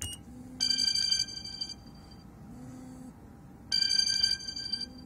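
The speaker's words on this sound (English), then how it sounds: "I have a phone call" A phone rings with an incoming call during a power supply repair, two bursts of bright, buzzing electronic ring about three seconds apart, close and clear over a quiet room, with no talk.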